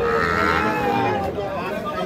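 A young heifer calf, around two months old, at a cattle market calls with a drawn-out, wavering bleat-like moo close by, while people talk nearby.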